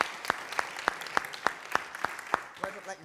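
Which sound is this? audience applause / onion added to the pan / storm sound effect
audience applause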